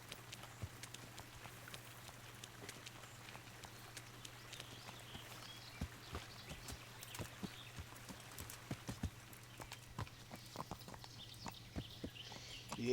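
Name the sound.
horse hooves clip-clopping on a path, from a video game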